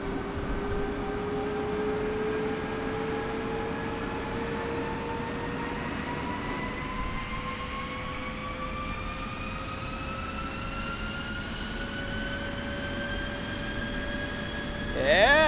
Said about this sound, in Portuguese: Vamos escutar o som do motor. Olha o som.